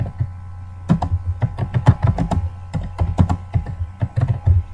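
Clicky keystrokes on a computer keyboard come in uneven bursts as text is typed into a welcome screen, close and fairly crisp over a steady low electrical hum, with no voices.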